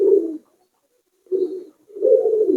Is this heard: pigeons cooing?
yes